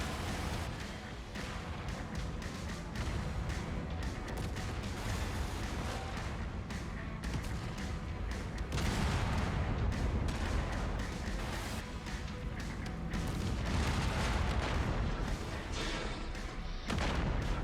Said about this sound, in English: I really hope that's an AC-2 shooting me in the back.